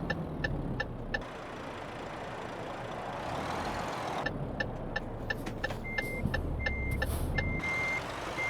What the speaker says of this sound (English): let's let this car go past first